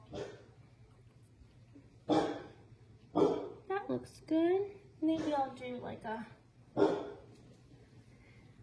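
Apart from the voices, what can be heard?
dog barking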